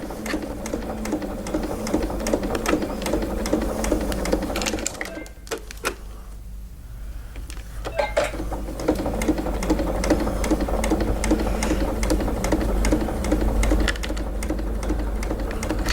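A sewing machine stitches along the fold of an A5 fabric binder cover in quick rhythmic bursts, briefly pausing near the middle before running steadily again, close and alone without talk.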